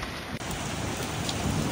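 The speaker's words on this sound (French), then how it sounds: "Il y a des grêlons," Steady heavy rain pelting a surface, a dense continuous patter that could include hailstones, with a brief dip near the start.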